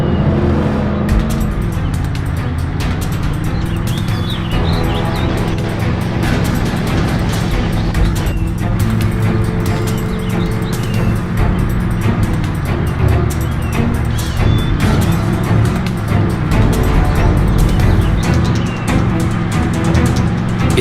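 Car driving in the video game Call of Juarez: The Cartel, with a steady engine drone and road rumble running continuously at an even, loud level under a layer of game music, with no pauses.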